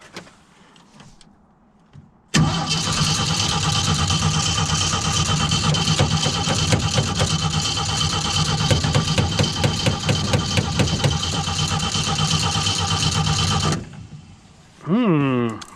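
An old Jeep CJ5 that has sat for years, cold and running on stale fuel, cranks and catches, then runs loud and rough for about eleven seconds before cutting out, followed by a brief second rev, with a few words spoken before it starts.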